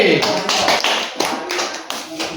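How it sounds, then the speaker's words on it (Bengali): Several children in a classroom clap their hands in quick, uneven bursts, loud and close, with some voices mixed in. "হাততালি হবে"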